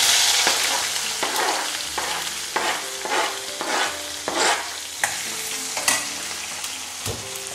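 Onions hiss and crackle in hot oil with panch phoron and asafoetida, close and fairly loud, broken by repeated scraping strokes of a spoon stirring through the pan.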